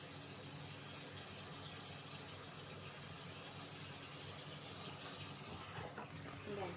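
Alugbati leaves being washed under running water at a kitchen sink, a steady continuous gush of tap water throughout with no talking.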